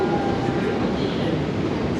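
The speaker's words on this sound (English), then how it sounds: "at the top of the escalator, you can hear the rumble of Bakerloo Line trains" A low, steady rumble of London Underground Bakerloo Line trains, heard from the top of the escalator at Maida Vale station, a continuous dull roar with no distinct pauses.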